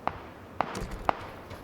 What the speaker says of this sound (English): So hearing some gunshots.